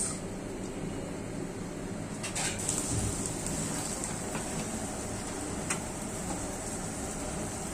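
Chopped onion dropped into hot oil for a beef tripe curry, sizzling in a steady, dense hiss that runs unbroken at close range with no voices.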